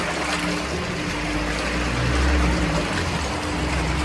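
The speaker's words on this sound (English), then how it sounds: "And you can check the water pulse disperser." A water pulse disperser runs on a VME-500L vacuum emulsifying mixer, giving a steady close watery churning with a low mechanical hum, unbroken and alone.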